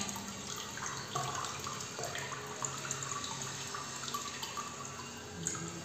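Water draining out of a tub holding a water lily and guppy fish pond, a continuous trickling and splashing flow with small drips and gurgles throughout, no talking.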